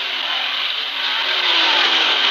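Ford and Ferrari race cars at the 1965 Le Mans 24 Hours, a loud sustained engine roar that builds slightly as they pass, steady and unbroken with no voices.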